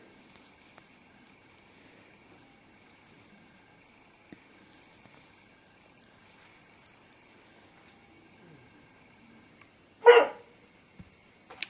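A dog barks once, a short, fairly close burst in an otherwise quiet indoor room during a crochet session, with a few faint ticks and small handling noises before it.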